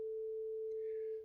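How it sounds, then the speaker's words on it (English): A steady 440 Hz sine test tone plays through an amplifier's pair of loudspeakers, holding at an even, constant level from start to end with only a faint background hiss. "we can hear the sine wave on both loudspeakers"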